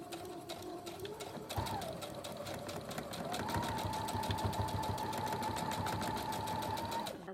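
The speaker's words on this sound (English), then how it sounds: "then you want to just sew along the edge here" A sewing machine stitching Hmong cross-stitch fabric for a bow tie runs in a steady, fast rhythmic whir close by, pitch rising slightly as it speeds up.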